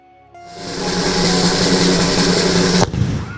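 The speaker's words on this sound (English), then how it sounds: "they blow off a cannon in this old, huge Cuban fort that you see as you enter Havana" A cannon is fired at an old, huge Cuban fort at the entrance to Havana. A loud, sustained roaring rush builds and is broken by one sharp, heavy bang, then a fading rumble.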